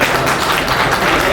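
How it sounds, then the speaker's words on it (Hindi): Loud, dense applause from a crowd at a birthday tribute event for a singer, a brief continuous burst of many hands clapping at once. "जोरदार तालियां बजा के"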